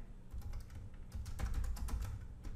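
A computer keyboard being typed on to enter login details, giving a quick, close run of light key clicks with short gaps, fairly quiet and with no talking.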